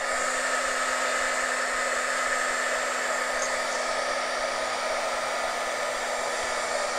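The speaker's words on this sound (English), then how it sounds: "I'm gonna see if I can blow this little part out there." A steady, loud rush of blown air, like a hair dryer, aimed at an acrylic fluid paint pour on canvas, holding constant and alone for several seconds with no talking.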